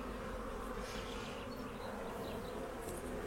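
Honeybees hum in a dense, continuous drone around an opened hive, close and steady throughout, with a few individual bees buzzing louder past the hive.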